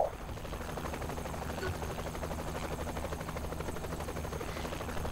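A steady, rhythmic chopping of helicopter rotors in the video game Saints Row: The Third drones continuously at moderate distance, with faint background game sounds.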